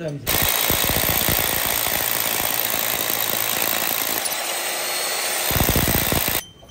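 A Titan power drill bores holes for anchor bolts, making a loud, close, continuous hammering rattle that runs for about six seconds before cutting off.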